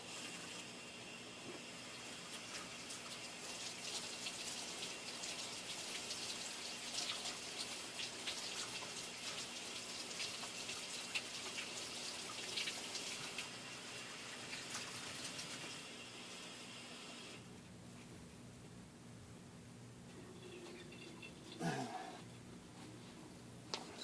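Tap water runs steadily while paint is washed off a Proto 2000 SW1200 model locomotive, a constant faint splashing hiss that thins out near the end, with a brief clatter.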